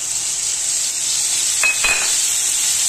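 Ginger-garlic paste fries in a hot pan for a Kolhapuri misal gravy, a bright, steady hiss close up with two quick metallic scrapes of a spoon partway through, no voices.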